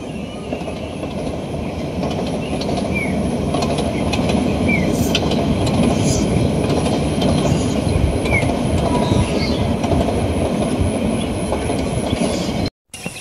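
From inside a moving passenger train carriage, a loud continuous rumble with rhythmic wheel clatter and faint squeals runs steadily, then cuts off briefly near the end.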